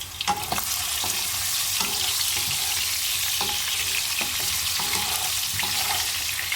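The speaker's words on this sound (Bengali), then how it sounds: "আমি আলুগুলোকে নুন হলুদ মাখিয়ে সোজা কড়াইতে ছেড়ে দিলাম এবার আলুগুলোকে বেশ ভালো করে লাল লাল করে একটু" Potatoes coated in salt and turmeric fry in hot oil in a wok, giving a loud, steady sizzle throughout with occasional clinks and stirring scrapes, and no talking.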